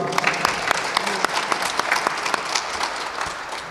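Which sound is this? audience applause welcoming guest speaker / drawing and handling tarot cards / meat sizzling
audience applause welcoming guest speaker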